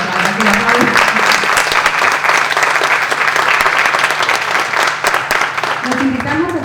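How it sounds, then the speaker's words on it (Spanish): Conference attendees applaud after a doctor's talk, a loud continuous wash of clapping from a large room, with voices briefly audible at the start and near the end. "a que lo aplaudan."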